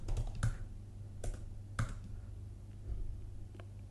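Sharp, isolated computer mouse clicks in IntelliJ, about four of them spaced unevenly over a few seconds, close and fairly crisp against quiet room noise, with no talking.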